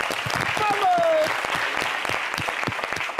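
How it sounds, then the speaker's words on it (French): An audience bursts into steady clapping, dense and close, lasting a few seconds, with a voice speaking over it and a brief whistle-like tone early on. "on applaudit"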